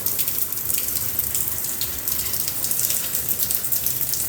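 A sudden, heavy rain pours down as a steady, dense hiss of water close by at night near an outdoor site, with no talk.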